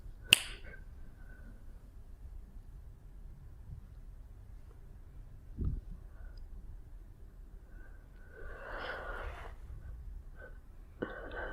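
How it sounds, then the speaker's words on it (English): A single finger snap rings out sharply near the start, close and crisp, followed by a quiet room with soft breathing and faint rustles. "I'm going to snap my fingers and you'll be there."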